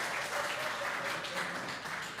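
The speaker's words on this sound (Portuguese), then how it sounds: "aplaudam ao Senhor." A church congregation applauds together during a sermon, a soft, steady wash of many hands clapping heard at a distance, fairly quiet and unbroken, with no voices over it.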